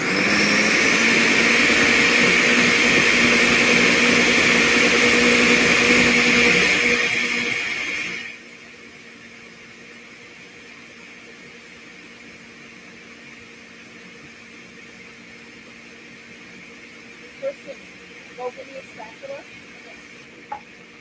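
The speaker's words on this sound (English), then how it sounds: "because I'm using a blender, and you may find also with a food processor, you're going to need to scrape down the sides" A blender whirs loudly and steadily while blending garlic scape pesto with almonds, then cuts off abruptly partway through, leaving quiet room tone with a few small clicks and knocks.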